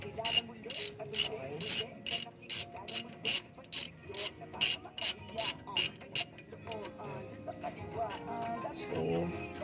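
A heavy-duty socket wrench ratchets while loosening the front shock absorber on a 2016 Toyota Hiace, giving a close, quick series of sharp clicking bursts that trail off into softer mechanical rattling.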